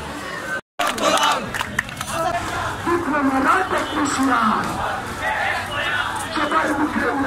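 A large crowd of BUET students blocking the Matsya Bhaban intersection in a street protest, chanting slogans together in loud, rhythmic waves that stay close and continuous after a brief dropout near the start.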